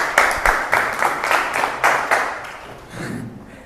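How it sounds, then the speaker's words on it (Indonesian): A classroom group claps and applauds in a run of sharp bursts that fade out over a few seconds, close and fairly loud. "tepuk tangan"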